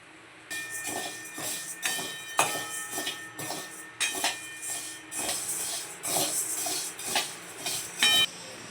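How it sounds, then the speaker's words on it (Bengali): Large sago pearls dry-roasting in a pan on the stove, with the repeated scrape and clatter of stirring, metallic clinks and rattles arriving in quick uneven bursts, close and fairly loud, with no talking. "বড় ধরনের সাবুটা একটুখানি ভেজে নেব হালকা করে যাতে গুঁড়ো করতে সুবিধে হয়"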